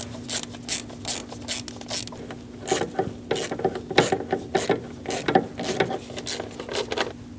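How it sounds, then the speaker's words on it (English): Bolts being snugged down on the ignition coil of a Dodge Durango, heard as repeated close ratcheting clicks and metallic rasping in short bursts, growing busier in the second half, with no talking. "Snug down the bolts for the coil."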